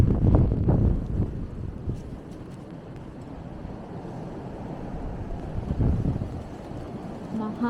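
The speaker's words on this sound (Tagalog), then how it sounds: "Mahangin." Strong gusting wind from a snowstorm in Montreal buffets the microphone in uneven low roaring bursts, louder near the start and again toward the end.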